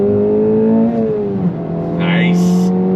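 A 2026 Acura Integra Type S with a manual gearbox accelerates hard in second gear, its engine note climbing loud and close inside the cabin, with a voice speaking briefly over it.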